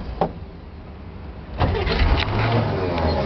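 A car engine with an overheating fuel pump and bad wiring is cranked; after a brief click it catches at about the midpoint and settles into a steady, fairly loud running rumble, with no talking.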